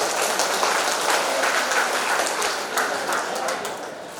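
A crowd claps steadily and densely for a few seconds at a political party office opening ceremony, a loud, continuous wash of applause with no voices over it.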